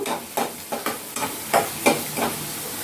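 Ground chili, cumin, coriander and salt mixed in a frying pan for rui fish: quick, repeated close scraping strokes over a soft continuous sizzle, roughly two or three per second, with no voices.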